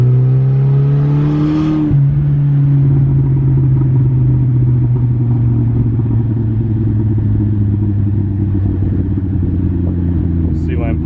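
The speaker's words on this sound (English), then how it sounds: "It backfires like non-stop when I come off the gas." A straight-piped Saab 9-5 wagon drives off-throttle, its loud engine drone dropping in pitch while the exhaust crackles and pops throughout, close and continuous with no talk.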